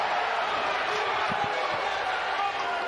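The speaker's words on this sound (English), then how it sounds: "you can hear the crowd" Boxing arena crowd at a professional main event roars in a steady, loud wash of cheering that fills the whole moment, with a few dull thumps and commentators' voices mixed in.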